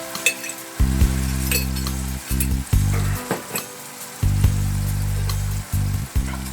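Sauerkraut frying in a pan with bacon and paprika gives off a steady sizzle, broken by repeated bursts of stirring and scraping and the occasional clink of a utensil against the pan.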